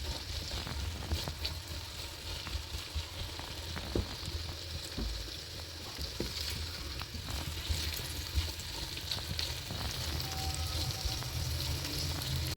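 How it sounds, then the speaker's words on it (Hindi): Okra (bhindi) fries lightly in a pan for a double-onion bhindi gosht, giving a steady moderate sizzle with occasional small pops and crackles. "भिंडियाँ हल्की सी फ्राई हो जाए"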